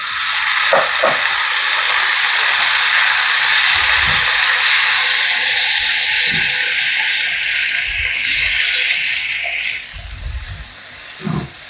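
Chopped potatoes frying in a pan over very low heat with chili and turmeric for Kerala potato mezhukkupuratti, giving a steady close sizzle and hiss that eases toward the end, with faint knocks of stirring.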